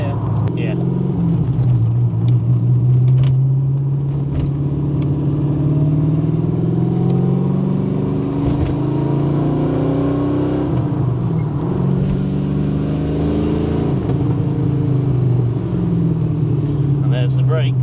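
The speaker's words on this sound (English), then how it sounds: "It's just such an angry sounding engine, isn't it?" A modified TVR Griffith 500 engine revs hard while driving, a loud, rumbling growl that rises and falls through continuous throttle changes, close and steady for the whole stretch.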